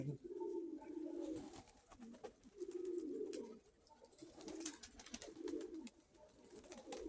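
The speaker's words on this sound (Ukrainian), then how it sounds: "Ось такі голубки." Female rock pigeons coo repeatedly in low, throaty rolling phrases, close by, with rustling and scratchy handling noises around them.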